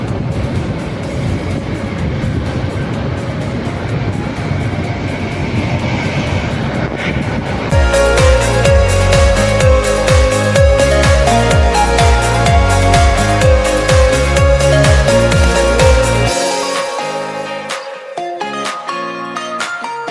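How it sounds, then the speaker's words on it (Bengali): A train crosses the British-built Hardinge Bridge. A steady roar gives way to loud, rhythmic clattering of wheels on the steel span, and the clatter thins out and fades near the end. "এখন এই মুহূর্তে ট্রেন যাচ্ছে দেখতে পাচ্ছেন"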